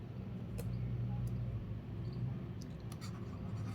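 Writing on a board during a maths class, soft scratchy strokes with a few faint ticks over a low steady room hum.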